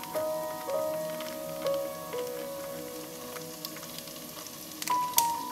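Chilies stir-fried with Bamboe instant tom yum seasoning sizzle in a pan, a steady close crackle broken by occasional soft scrapes and stirring knocks.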